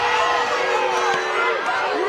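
A softball stadium crowd groans and murmurs in displeasure at an umpire's call, a dense, steady wash of many voices filling the whole moment.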